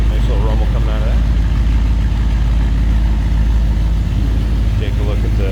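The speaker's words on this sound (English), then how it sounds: "Nice little rumble coming out of that." A restored 1957 Chevrolet Bel Air convertible idles with a steady, low rumble throughout, close and constant, while someone speaks briefly over it at the start and near the end.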